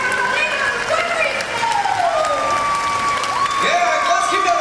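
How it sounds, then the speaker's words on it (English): Crowd applause and cheering at a theme-park extreme stunt show, steady clapping with whoops over a loud background, with voices mixed in. "let's keep that applause going"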